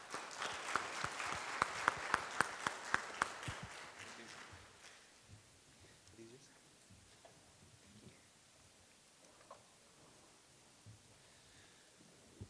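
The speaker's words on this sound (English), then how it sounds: "One more round of applause for our panelists, everyone." Audience at a health conference applauding the panelists, a few seconds of sparse, distinct claps that quickly die away into quiet room rustle and faint shuffling.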